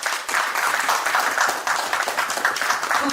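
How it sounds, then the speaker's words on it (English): Applause at a charity gala for the board chair, a room of people clapping steadily at moderate volume with a brief dip partway through. "big round of applause for Dr."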